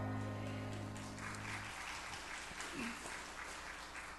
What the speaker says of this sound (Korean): 박수 치는 거 보니까 그래요